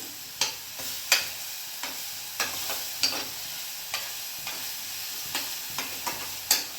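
Ridge gourd cooks in a pan over low gas, a soft sizzle broken by repeated sharp spatula taps and scrapes at an irregular pace, fairly quiet, with no voices.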